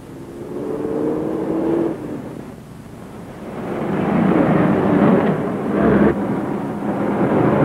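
An old 1930s car pulls away outside a factory, engine rising in a rumbling surge after a brief whine, with gusty wind-like noise swelling and fading as it drives off.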